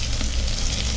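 Prawns fry with salt and turmeric in hot oil, giving a loud, continuous close sizzle with no talking.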